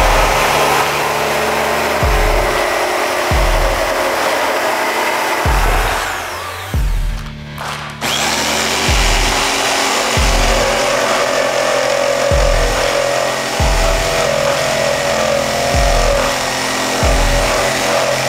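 A Bosch GST650 jigsaw making a 45 degree cut, a loud continuous buzzing motor with a steady rhythmic thumping from the blade stroke, briefly dipping and pausing before resuming.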